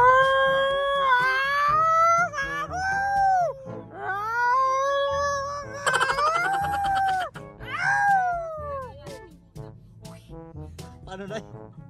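Cats fighting at home, with loud, drawn-out yowling meows rising and falling in repeated bursts for the whole stretch, close and continuous with brief gaps.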